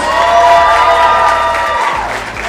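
Audience at a construction industry chapter event cheers and applauds in a dense, steady burst of clapping and whoops, loud and continuous, tapering slightly at the end.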